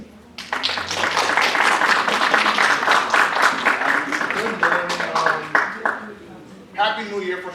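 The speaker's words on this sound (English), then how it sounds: "Join me by giving a round of applause to Gio DeRice." An audience at a student leadership academy winter workshop breaks into a sustained round of applause for a speaker. The dense clapping fills the room for several seconds, then fades as a voice starts talking.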